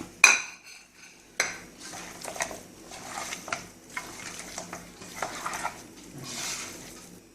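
Chicken pieces are mixed with curry leaves, turmeric, coriander, chilli and pepper powders in a bowl, giving soft irregular scrapes, squelches and a few sharp clinks, close and intermittent, with no talk.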